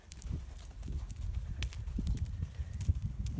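A horse cantering over a pole, quick rhythmic hoofbeats thudding on soft ground at a steady three-beat pace, faint and a little distant, with no voices.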